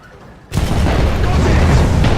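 A modified 120mm Rheinmetall tank gun fires in War Thunder, a sudden loud boom after a brief quiet lead-in, followed by a sustained rumbling, roaring tail.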